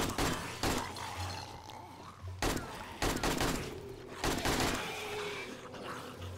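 Video-game gunfire aimed at zombies: several heavy, loud bursts of shots separated by short gaps, with crashing impacts mixed in and a busy game backdrop.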